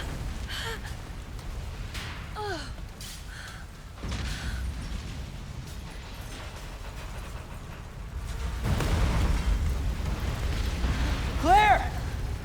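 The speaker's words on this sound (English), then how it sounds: "Explosion!" A deep explosion rumbles in Resident Evil 2 Remake, with a low roar building and swelling toward the end, mixed with voices and in-game effects.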